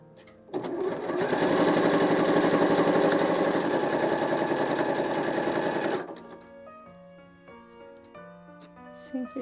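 A sewing machine runs fast and steadily for about five seconds while stitching a fabric ring into a leopard-print fabric wallet, then stops abruptly, leaving quiet handling sounds and a voice in the background.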